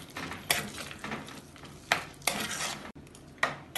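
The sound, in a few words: stirring malai chicken with kasuri methi in a pan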